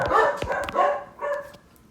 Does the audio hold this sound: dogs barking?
yes